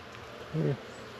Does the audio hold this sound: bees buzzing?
yes